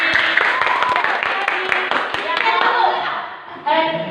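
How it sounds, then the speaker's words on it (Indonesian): Children in an Indonesian classroom clap together in a dense burst of close, crisp handclaps that carries on steadily for a few seconds before easing off. "Tepuk tangan untuk Ferdi."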